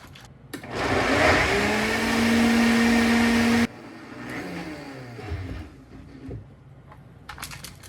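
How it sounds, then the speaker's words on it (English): A Beast blender whirs loudly for about three seconds while blending coconut milk, a steady high-pitched motor roar that stops abruptly, followed by quieter clatter and handling sounds. "this is the Beast blender"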